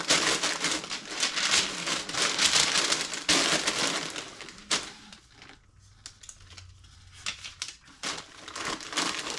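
Paper packaging and bubble wrap are folded over snowflake items while packing an order, with loud, close crinkling and crumpling that rustles steadily before easing into quieter, intermittent handling.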